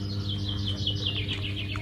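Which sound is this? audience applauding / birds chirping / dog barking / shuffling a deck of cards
birds chirping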